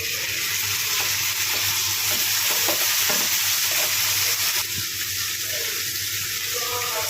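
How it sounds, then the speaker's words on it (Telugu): Chopped tomatoes go into a pan of frying onions and are stirred, giving a close, steady sizzle with scraping stir strokes and a few soft knocks, no talking. "ఇప్పుడు ఇందులోకి మనం కట్ చేసి పెట్టుకున్న టమాటోస్ అవి వేసుకుందాం"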